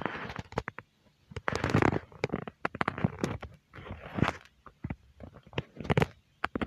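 Bombs explode in the Stickman Party video game, giving a string of sharp crackling bursts that come in irregular clusters, loud and close, with short gaps between volleys.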